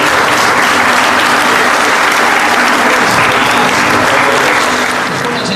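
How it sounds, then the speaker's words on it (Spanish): A large crowd at a patronal festival gives loud, sustained applause for the organizers, dense clapping and cheering holding steady for several seconds with no pause. "les invito a que les demos un fuerte aplausote a todos los que organizaron"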